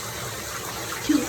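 Shower water runs steadily for a green male Eclectus parrot, a continuous hissing spray that is close and even, with a brief louder splash near the end.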